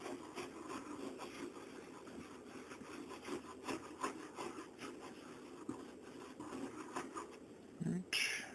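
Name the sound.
cloth wiping Marquis acoustic guitar body clean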